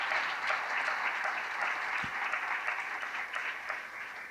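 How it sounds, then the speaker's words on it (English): Steady applause from a conference audience at a plenary session, many hands clapping in a fairly quiet, even wash that fades slightly toward the end. "So a round of applause for them."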